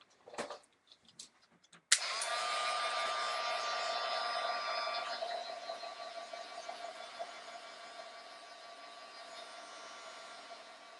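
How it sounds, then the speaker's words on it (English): A heat tool dries freshly applied paint splatter on a mixed media piece. A few soft handling knocks lead into a sudden switch-on, then a steady, fairly loud whirring blow that continues to the end. "You got to watch because you just applied some splatter, so you might want to dry those first."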